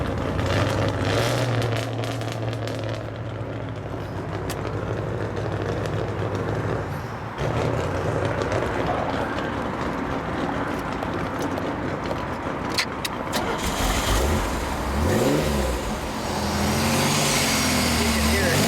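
A 1985 Pontiac Fiero GT's V6 engine, unrestored with low original miles, starts and idles steadily, then swells as it is revved a few times near the end, with people talking over it throughout.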